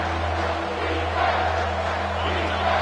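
A football stadium crowd at an FSU game roars loudly and continuously on a big third down, cheering behind the defense, with a broadcast commentator talking over the noise.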